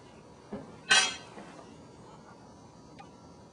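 Chicken and noodles being served: a soft clink, then a sharper clatter of dishes and cutlery close by, with one faint tick near the end over a quiet room.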